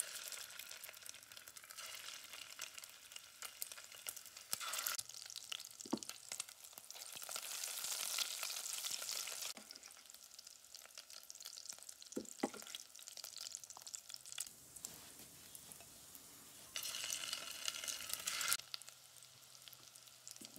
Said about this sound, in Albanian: dhe do t'i japim një të skuqur të lehtë qofteve.